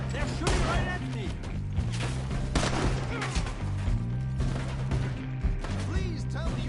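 Gunfire from Red Dead Redemption 2, a steady run of sharp shots and impacts over several seconds, loud and close, with music and voices mixed underneath.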